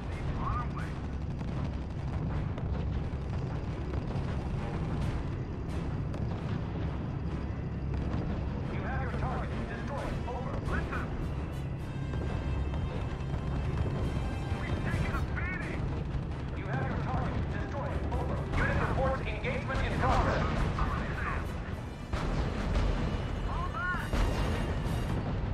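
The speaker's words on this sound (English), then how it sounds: "I had the feeling you'd be good at blowing things up." Artillery fire and explosions in the real-time strategy game R.U.S.E., a World War II battle with a Panzer IV targeted, come as dense, continuous booms and blasts layered under speech and music throughout.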